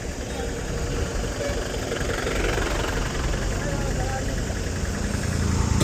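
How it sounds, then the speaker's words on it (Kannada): A Dharmasthala depot bus idles at the Dharmasthala bus stand, its engine chugging and knocking steadily up close, with a voice talking faintly over the running motor. "ಧರ್ಮಸ್ಥಳ ಡಿಪೋ ಗಾಡಿ."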